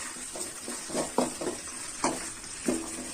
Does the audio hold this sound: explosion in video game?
no